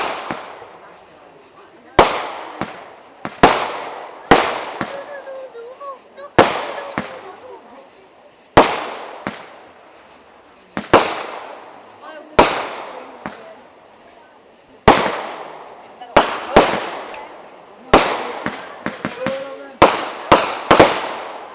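A fireworks show, with a series of sharp, loud bursts and booms that come singly and in quick clusters, each fading out with a short echo, and some distant voices between them.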